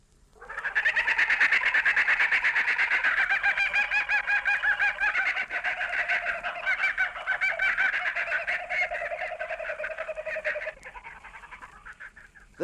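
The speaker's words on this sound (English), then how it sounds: "the Kookaburras still laugh in the dawn long before the rising of the sun" Australian kookaburras laugh in the bush at dawn, a loud, sustained cackling chorus that rises and rolls on for about ten seconds before fading out.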